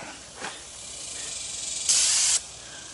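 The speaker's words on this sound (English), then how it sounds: "Now let me spray a little starting fluid on it." A short hiss at first, then a louder, sharp burst of starting fluid sprayed from an aerosol can onto a riding mower, lasting about half a second, close by with no talking.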